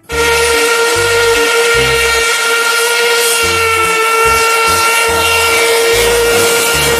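A loud, sustained whistle-like tone rings over a rhythmic chugging pulse, like a toy train running steadily.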